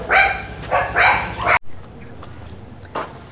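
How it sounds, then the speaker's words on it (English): Dogs bark in a Denpasar alley, a run of loud, close, overlapping barks and yelps for about a second and a half, then a fainter single bark after a quieter pause. "So, like you hear, many dogs around here,"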